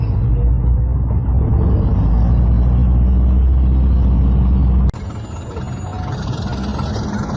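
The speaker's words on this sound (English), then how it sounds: "Tommy starts the car again." A car engine runs with a steady, loud low rumble, then shifts to a slightly quieter drone partway through, with no voices.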